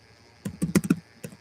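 Several keystrokes on a computer keyboard during a search in word-processing work, a few scattered quiet taps then a brief cluster of firmer clicks, close and alone with no talk.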